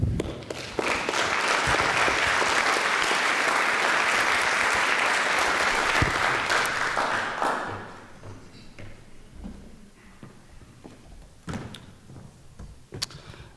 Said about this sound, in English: Thank you guys for the applause.